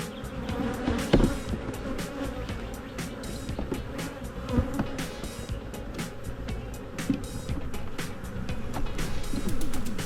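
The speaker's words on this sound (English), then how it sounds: "Decent amount of bees in the box" Steady, dense buzzing of many bees close by in a hive box, with occasional knocks and clicks over the drone and no talking.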